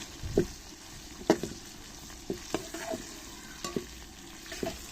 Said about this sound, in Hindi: और भिंडियों को अच्छी तरह से फ्राई कर लेंगे हम।